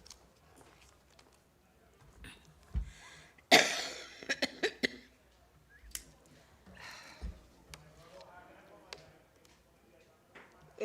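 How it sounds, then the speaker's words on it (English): A person coughs during a town council meeting, one harsh burst followed by a few smaller throat-clearing coughs and scattered taps in a quiet room. "This is the cough that keeps on giving."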